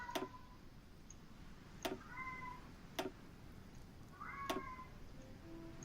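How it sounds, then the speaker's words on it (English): A pet cat meows indoors, two quiet drawn-out calls a few seconds apart, mixed with sharp, evenly spaced clicks over a low background hum. "My cat's going crazy today."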